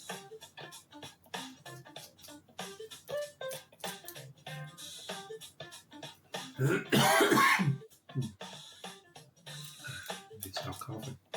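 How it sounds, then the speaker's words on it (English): A person coughs and clears their throat repeatedly over several seconds, a series of short, close, irregular bursts with a louder harsh rasping fit midway. "Stop coughing."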